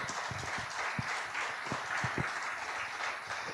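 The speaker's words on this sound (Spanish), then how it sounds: "Den un aplauso al Señor," A church congregation applauding during a sermon, an even, sustained patter of many hands clapping at moderate volume, with a few sharper claps standing out.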